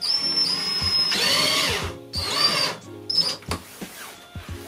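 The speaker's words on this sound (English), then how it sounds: "You're the one with the drill in your hands." A handheld power drill runs in two sustained bursts with a steady whine, close and loud, during work cladding the fixed bed walls inside a UK minibus camper conversion, then gives way to short knocks and handling sounds.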